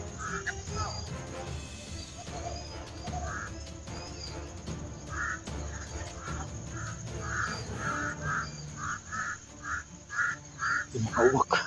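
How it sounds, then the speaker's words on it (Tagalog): A flock of crows caws repeatedly at moderate distance, rough calls recurring in a loose rhythm over steady background noise, growing busier toward the end. "Yung mga uwak."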